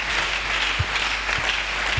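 A church congregation applauding during a French-language sermon, a dense, steady wash of clapping from many hands throughout.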